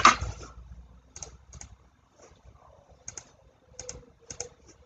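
Bursts of keystrokes on a computer keyboard while entering text into an Excel text box, arriving in short irregular clusters with quiet gaps, fairly close and clear with no talking.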